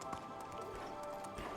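Horse hooves clip-clop at a riding pace in the medieval video game Medieval Dynasty. The rhythmic footfalls sound moderately quiet against a soft game background.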